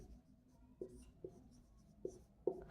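Pen strokes on paper during a Class 8 maths lesson on cylinders, heard as four brief faint scratchy marks spaced apart over a quiet room background.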